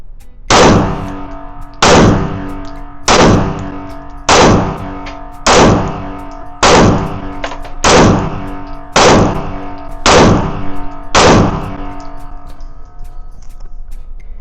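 A pistol fires nine loud, evenly spaced shots at an indoor shooting range, each a sharp crack with a ringing tail, spaced about a second and a quarter apart.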